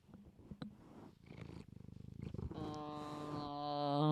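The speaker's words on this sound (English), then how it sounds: "Oh, she's purring." A cat purrs steadily while having her belly rubbed, a close, continuous rumbling purr that grows louder toward the end, with some soft handling rustles early on.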